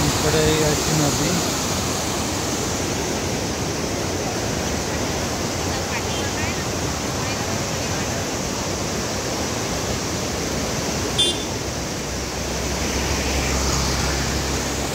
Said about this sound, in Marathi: इकडे याची नदी.